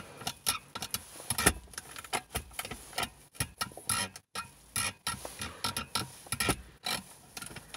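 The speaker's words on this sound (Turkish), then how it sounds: "Şu an hala bir gıcırtı var." Repeated short, sharp creaks and clicks in an irregular series, close up, from plastic car interior trim squeaking and rattling under pressure, with no voices.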